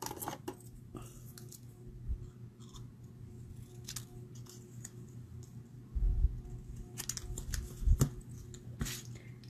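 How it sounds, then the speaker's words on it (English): Scissors snip paper for a stamped card scene in a series of sharp close clicks and cuts, with some handling noise and heavier thumps toward the end, quiet and without talk. "So I'm going to snip it."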